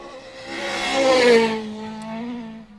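A Ford Escort rally car driven hard on a stage, its engine revving up as it approaches and passes close by, then changing up a gear with a drop in pitch before pulling away.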